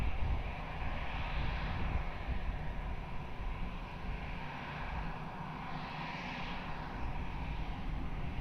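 Jet airliner engine roar during a takeoff run at Lisbon Airport, a steady loud broadband rumble that holds throughout, with a slight swell toward the end.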